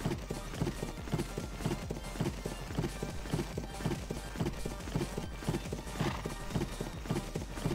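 Horse hooves clip-clop in a steady, rapid rhythm while riding a mount through the Lineage 2 game world near Schuttgart, the footfalls continuous and fairly prominent over faint ambient game sound.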